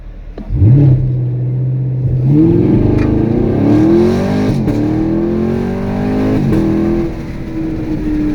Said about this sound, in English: And then when you want to launch, let off the brake.